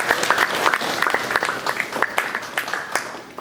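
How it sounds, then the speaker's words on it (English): An audience at a university general body meeting breaks into a round of applause, a dense, steady wash of many hands clapping that carries on evenly throughout, loud and close, with no speech over it. "please give yourself a big round of applause."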